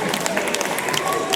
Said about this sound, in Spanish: fuerte los aplausos para el señor Ramón